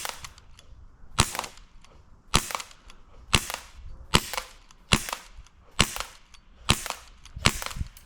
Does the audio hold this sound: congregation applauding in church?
no